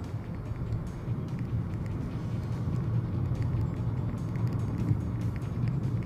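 A car cruising on an Indian highway, a Mahindra XUV300 chasing a Volkswagen Polo, gives a steady low road and engine rumble that holds evenly throughout, with no voices.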